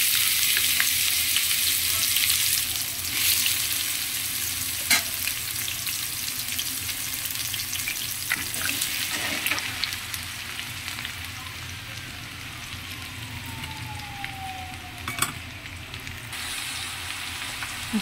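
Bottle gourd frying in hot oil in a pan, a dense, even sizzle close by, broken by a few sharp clicks and light spatula knocks, with no voices.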